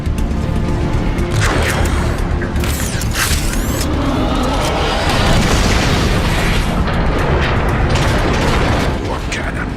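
Heavy cannon blasts boom repeatedly in a Transformers Cybertron video game battle at a fortress, thick rumbling explosions layered with mechanical clatter and sharp bursts, loud and continuous.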